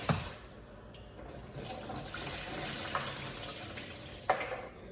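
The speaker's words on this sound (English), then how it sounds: "So I'm gonna throw off that first water and rinse it again, pour that off." Water poured off soaked raw peanuts in a kitchen, a steady splashing, rushing stream running for several seconds with a couple of small knocks, close and moderately loud.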